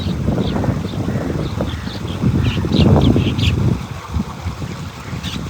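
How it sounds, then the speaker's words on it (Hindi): Common myna birds chatter in short, scattered calls beside a village well in the countryside, the calls fairly close but mixed into constant wind and rumbling outdoor noise. "मैना आ गई कुएं पे।"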